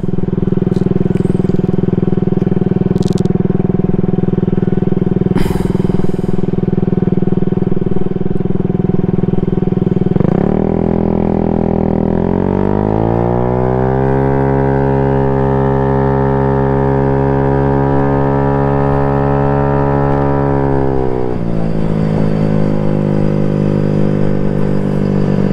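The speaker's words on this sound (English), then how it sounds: "Thing about having a CVT cover on your bike, it's really loud. Not the bike itself, but you can hear the transmission," Honda Ruckus scooter with a CVT cover, heard while riding: a loud, continuous engine drone with a whining transmission that rises in pitch midway, holds, then drops back, with no talk.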